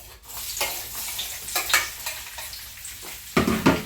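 Onions fry in hot oil with salt for an egusi soup, a steady close sizzle with stirring scrapes throughout and a louder hiss flaring near the end.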